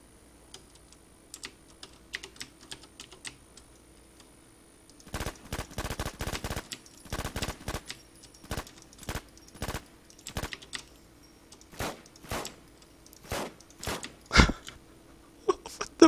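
A pistol fires outdoors in grassy ground, first a few faint scattered pops, then from midway rapid clusters of sharp cracks followed by single shots spaced a second or so apart, moderately loud with no talking.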